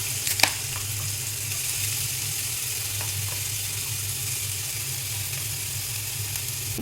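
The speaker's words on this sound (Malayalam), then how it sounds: "നമ്മളിനി വെളിച്ചെണ്ണ ചൂടായിട്ട് വരുമ്പോൾ പാനിലേക്ക് നമ്മൾ ഉള്ളിയും പച്ചമുളകും കൂടി അരിഞ്ഞത് ഇട്ട് കൊടുക്കുക." Chopped onion and green chili sizzle steadily in hot coconut oil in a pan, a close, even hiss with one sharp clink near the start and faint scraping later.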